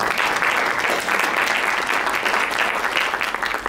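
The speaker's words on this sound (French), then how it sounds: "je vous demande de l'applaudir." A conference audience claps together in steady, continuous applause, a dense patter of many hands with no pause.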